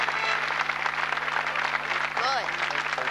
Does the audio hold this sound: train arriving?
no